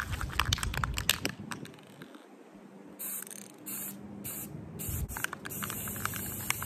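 An aerosol spray can paints a PVC pipe lightsaber, giving a steady hiss in several close bursts with short pauses between them, alongside faint handling noise.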